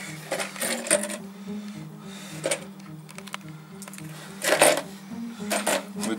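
Metal screws with spring washers being picked up and handled during a DIY bow thruster installation on a boat, giving small clinking, jingling metallic taps in irregular clusters over a steady low hum.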